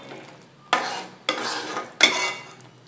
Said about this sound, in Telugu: టమాటా మిశ్రమాన్ని కూడా వేసి కలుపుకుందాం దీన్ని పచ్చి వాసన పోయేదాకా ఫ్రై చేసుకుందాం